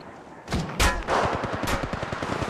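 Apex Legends gunfire rings out in rapid, punchy bursts of close shots with a quick cluster of cracking reports, loud and without talk.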